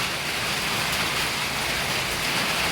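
Steady rain falls on a village among farm fields, a dense even hiss filling the scene without pause and no voices present.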